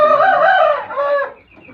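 Young turkeys, ducks and geese in a backyard coop, with one loud, close, drawn-out fowl call that fades to quiet near the end.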